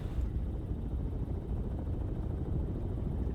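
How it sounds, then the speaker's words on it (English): Helicopter rotor drone overhead in the submarine game Cold Waters, a steady low rumbling throb, loud and continuous with no talk. "Helicopters here."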